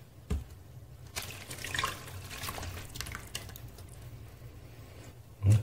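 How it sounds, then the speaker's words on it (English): About 700 ml of beef stock is poured over sweated onions for beef olives, a soft, close liquid splashing and trickling with a few louder spurts at the start and end. "So I'm going to add 700 millilitres of beef stock."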